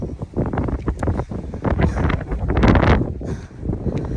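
Wind buffets a microphone outdoors as someone walks backwards, a loud, continuous rumbling roar with gusty swells that fill the whole clip, no talking.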